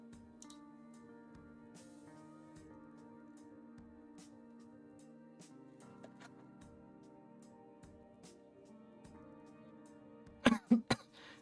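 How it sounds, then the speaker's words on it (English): A few sharp coughs near the end, close and loud, breaking a long stretch of soft steady background music with no talking. "my cough is coming back."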